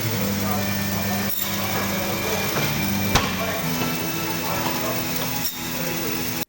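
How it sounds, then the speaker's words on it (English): Bandsaw cutting lamb loin chops, a continuous mechanical whir and grind with a few sharp knocks as the blade passes through meat and bone, running steadily throughout. "And that's the demonstration of how to cut a lamb loin chops on the bandsaw."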